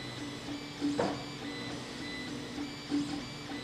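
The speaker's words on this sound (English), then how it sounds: "the Ender 3 has been printing very well" An Ender-3 3D printer runs through a print, its stepper motors giving a steady whir with a cooling fan hum and two brief louder motor sweeps, close and fairly quiet.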